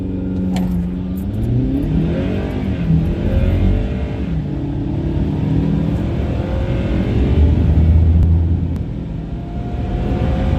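A stock 2022 Ford Maverick accelerating hard on a road, its engine droning loudly and rising in pitch through the gears, heard close and steady without talk.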